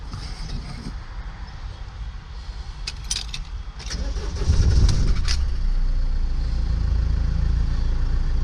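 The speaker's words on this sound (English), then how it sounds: "we're going to turn the engine on" A converted van's engine cranks and starts partway through, following quiet clicks and a faint jingle, then settles into a steady, loud idle that carries on to the end.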